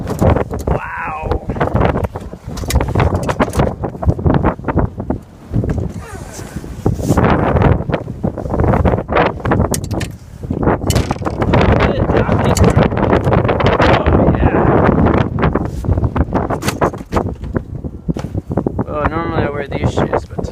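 Strong gusting wind roars continuously outdoors at a land kite-boarding spot, buffeting the microphone loudly throughout while a person talks over it.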